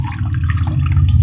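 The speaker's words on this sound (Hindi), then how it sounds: "बॉईल करने के बाद मैं इसे स्टेन कर लूंगी।" Boiled fennel seed water is poured through a strainer, a steady, loud splashing stream that runs without a break for the whole moment, with no talking.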